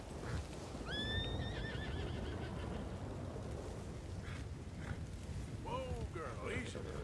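A horse in the video game Red Dead Redemption 2 lets out a loud whinny early on and a shorter neigh near the end, with hoof clip-clops and a steady rain-like wash beneath.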